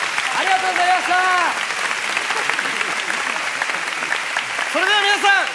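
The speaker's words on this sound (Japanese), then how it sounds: "それでは皆さん、そのまま拍手を続けて解禁しましょう。" Audience applause at the curtain call of the Haikyuu!! Hyper Projection Engeki stage play, steady clapping throughout with voices calling out over it.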